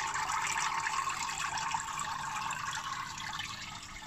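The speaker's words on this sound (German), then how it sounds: "Da plätschern gerade die Türme vor sich hin" Water trickling and splashing through hydroponic towers on a balcony, a steady, fairly close babble of flowing water that carries on without a break.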